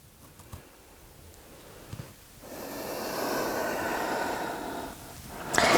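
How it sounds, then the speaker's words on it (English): A slow, deep belly breath during a morning yoga session, a quiet sniff followed by a long, swelling airy exhale or inhale lasting a few seconds, close and soft. "start to connect to a really deep belly breath"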